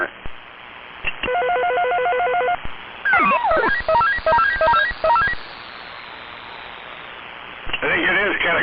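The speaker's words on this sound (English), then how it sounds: "It sounds like an office phone from 1982" Electronic ringtone resembling a 1982 office phone, trilling in repeated bursts of rapid tones with short gaps, loud and close, followed by a burst of warbling chirps and a final ringing burst.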